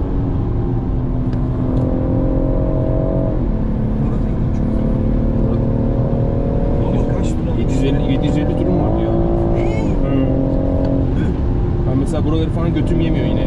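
A Honda Civic Type R at full throttle on a German autobahn gives a loud, steady engine drone that climbs in pitch through the gears, with road and wind noise underneath and someone talking over it.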